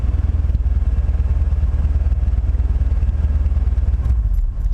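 1986 Mercury Cougar engine idling close by, a steady loud low rumble with a regular pulsing beat, running alone for a few seconds before a brief dip near the end.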